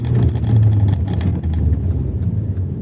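A car under way during a driving test, its engine humming loud and close with a low drone, revving up as it accelerates and then settling back.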